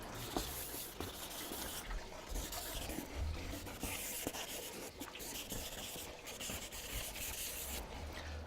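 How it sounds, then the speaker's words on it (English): Sandpaper rubbed by hand over the paint of a BMW 740i, a faint steady scratchy rasping in repeated back-and-forth strokes, close up and alone. "I think we're going to have to use some sandpaper."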